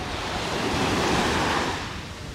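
Ocean waves wash steadily onto the beach at Playa de Muro on a September walk, a continuous loud surf roar with some wind noise on the microphone and no talking.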